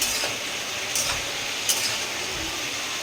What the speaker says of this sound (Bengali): সয়াবিনে আলুটা ভাজছে